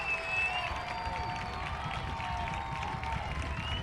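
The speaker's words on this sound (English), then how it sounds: "Hear the crowd coming to their feet." A high school football crowd rising for a big third-down play, a broad, sustained roar of many voices and cheering in a stadium, steady and full throughout with no distinct speech.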